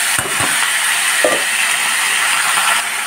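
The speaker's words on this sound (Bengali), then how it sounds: "আমি এর মধ্যে দিয়ে দিচ্ছি কপিটা" Cauliflower pieces dropped into hot oil and spices hiss and sizzle loudly and steadily close by, with a few sharp crackles near the start as the florets hit the pan.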